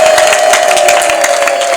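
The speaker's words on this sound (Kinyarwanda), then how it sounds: "Komera Imana amashyi menshi cyane tuyishimire" Church congregation clapping and cheering together, loud and dense with rapid overlapping claps and crowd voices throughout.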